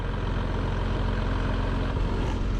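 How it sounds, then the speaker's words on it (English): Jeep engine idling at 750 RPM while crawling in first gear uphill on a snowy mountain trail, a steady deep engine rumble held close and even throughout, with no talking. "Idle at 750 RPM. And crawl along."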